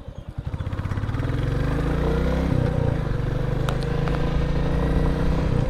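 A motorcycle engine rumbles close by as the bike pulls away and picks up speed, the low droning revs climbing and then holding steady with some rattling clatter.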